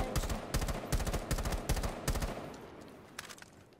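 Rapid bursts of video game gunfire spray out in quick clusters as the player uses Fuze, loud and sharp for about two seconds, then thinning to a few scattered, fainter shots.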